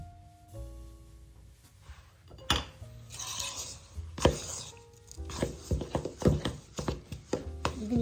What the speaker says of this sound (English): so now we're going to mix all this together. I'm going to get a spoon, it's easier.